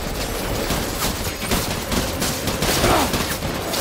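Enemy gunfire in Death Stranding, a dense continuous fusillade of loud rapid shots crackling together without pause.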